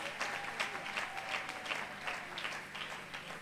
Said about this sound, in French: est-ce qu'on peut les encourager avec des acclamations